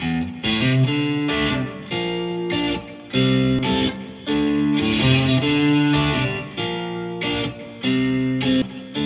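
Distorted electric guitar plays a loud, chugging riff from a song with chorus-like shimmer, rhythmic chord stabs separated by brief pauses, no voices.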